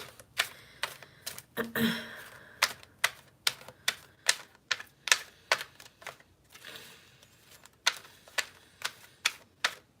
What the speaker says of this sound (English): I just automatically start breathing heavier when I'm shuffling